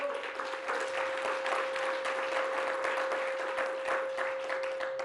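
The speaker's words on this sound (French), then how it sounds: "On peut l'applaudir, hein," An audience applauds a prize winner honoured with the Chaptal prize, even continuous clapping at moderate distance with a steady tone humming underneath.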